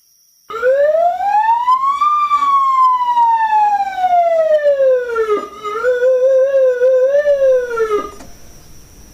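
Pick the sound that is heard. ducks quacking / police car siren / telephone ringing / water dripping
police car siren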